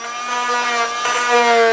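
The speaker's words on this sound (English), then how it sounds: "I'm going to drill a hole in it first" A power drill bores a hole into wood inside a sailing boat found taking on water, a steady high-pitched whine with a slight rise in strain, close and loud, running alone without talk.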